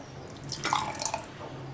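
Soaked sabja basil seeds tipped into a glass for juice, giving a brief, soft wet plop and drip midway through, fairly faint against a quiet kitchen background.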